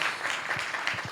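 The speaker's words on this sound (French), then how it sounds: "Je pense qu'on peut les applaudir vraiment sincèrement." Audience applause at a live esports panel talk, a short dense patter of clapping at moderate level with no voices over it.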